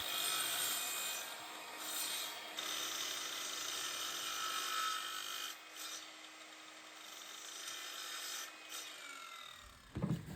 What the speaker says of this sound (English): cut those angles on the miter saw